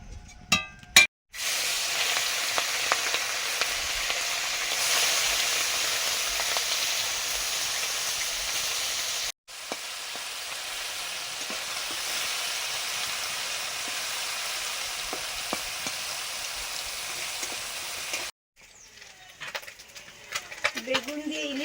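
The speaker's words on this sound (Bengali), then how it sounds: "মাছটা ভাজা হয়ে গেছে" Salted fish frying in oil in a pan gives off a steady, even sizzling hiss, broken by a few abrupt cuts, with faint clinks and a voice near the end.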